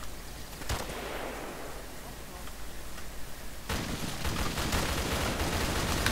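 Airsoft rifle fire outdoors: a single sharp shot rings out early, then another crack is followed by a quick, uneven run of shots that carry on to the end.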